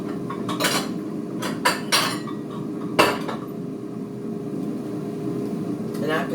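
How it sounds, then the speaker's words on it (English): Spoon and ladle clinks against a pot and bowl as cooked meatless chili beans are scooped out in a home kitchen, a few sharp clatters over a steady background hum. "I'm gonna go ahead and scoop up some of these beans so they can cool off."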